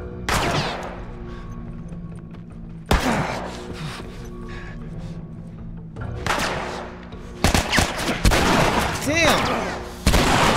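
Gunfire in The Last of Us, a series of loud close shots and bursts across the scene with game ambience between them, and a man exclaiming once.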